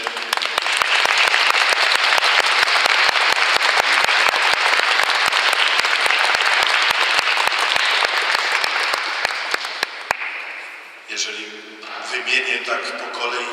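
Sustained applause fills a church during a Mass marking the 228th anniversary of the 3 May Constitution, greeting the Mazowsze ensemble; dense, loud clapping runs for about ten seconds, then fades as a voice speaks.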